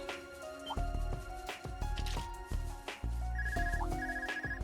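A joke telephone ringtone rings repeatedly during a Trails of Cold Steel IV battle, bright bell-like tones pulsing over busy game music and effects.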